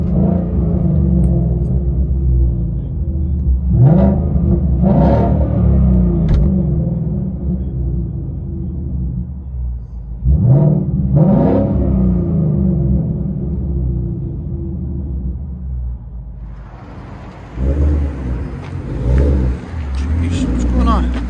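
A 2018 Ford Mustang GT with a 5.0L V8, dual exhaust, X-pipe and Roush axle-back, idling with a deep rumble and blipped into several loud revs, heard close from inside the car, with talk over parts of it.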